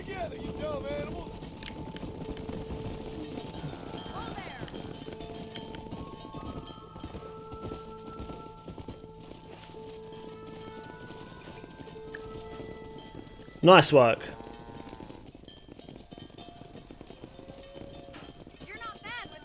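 Horse hooves clopping steadily during cattle herding in the Red Dead Redemption video game, continuous under game music and character dialogue, with a brief loud burst of another sound near the end.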